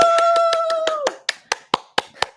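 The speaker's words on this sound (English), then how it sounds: "We'll give you claps." Hands clap in a quick series of about ten sharp claps, loud and close, while a sustained vocal tone holds over the first half.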